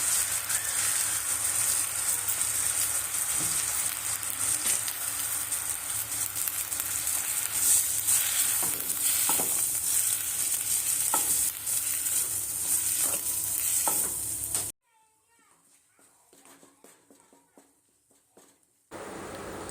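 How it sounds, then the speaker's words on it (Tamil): Three large tomatoes and onions with a spoon of salt sizzle and fry steadily in a pan while being stirred for a pepper chicken gravy. The frying runs loud and continuous, then drops to near silence before returning. "ஒரு 2 நிமிஷம் இப்படி கலரி விட்டுக்கலாம்."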